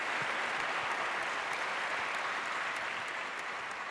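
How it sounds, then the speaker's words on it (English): A crowd at a League of Legends esports tournament applauds the winners, a dense, loud, continuous roar of clapping that stays steady throughout with no break. "a huge round of applause for all the winners out there"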